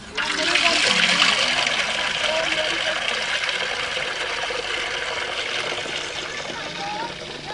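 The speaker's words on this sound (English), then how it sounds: "The roof has a cement surface, and rainwater will be channeled and collected in a container" Rainwater running off a cement roof and channeled into a collection container, a steady continuous rush and trickle of water throughout, fairly loud and unbroken.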